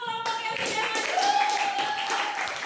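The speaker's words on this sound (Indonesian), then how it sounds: "Beri tepuk tangan dulu untuk kelompok yang sudah maju." A classroom claps for a student group that has just presented, a quick run of rhythmic hand claps from several people under a sustained tonal hum and faint voices.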